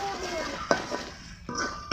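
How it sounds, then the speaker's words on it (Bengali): Salt, turmeric and chili powder sauté with a little water in a pan, a faint sizzle broken by a few quick scraping stirs of a spoon against the metal. "সামান্য একটু জল দিয়ে কিছুক্ষণ কষিয়ে নিব।"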